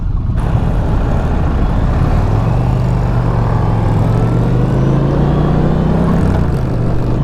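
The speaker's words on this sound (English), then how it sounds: "And that engine sounds good." A 2023 Indian Challenger motorcycle engine runs loud and close, a deep continuous rumble with a steady low throb that rises slightly in pitch midway and settles again, with wind-like road noise over it.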